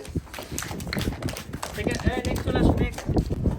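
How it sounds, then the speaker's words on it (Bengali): Children clap their hands on a home rooftop during play, a scatter of sharp, uneven claps mixed into loud, constant overlapping talk and shouting. "হাততালি দাও সবাই"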